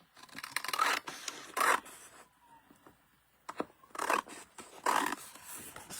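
Scissors cut into card along the inside of a traced piece, several short crisp snipping bursts with quiet gaps between them, close up, with no voice.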